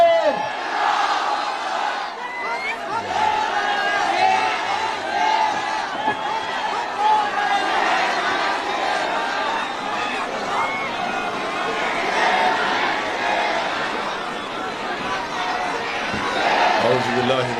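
A large political rally crowd answers a Takbir call with loud massed chanting and cheering of Allahu Akbar, a dense roar of voices rising and swelling across the gathering.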